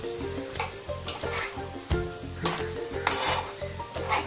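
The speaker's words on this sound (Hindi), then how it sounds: "तभी मैं इसमें डाल दूंगी पनीर। सबको अच्छे से मिक्स कर लेंगे।" Paneer fried in masala in a pan on a medium flame and stirred with a utensil: steady close sizzling under rhythmic scraping and clinking strokes against the pan, repeating about twice a second.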